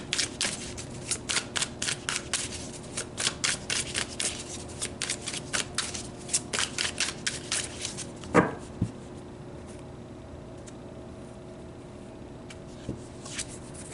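Tarot cards are shuffled by hand in a rapid, papery riffling run over the first eight seconds, then a single sharp snap as a card is pulled, followed by quiet with a soft tap near the end; no one speaks.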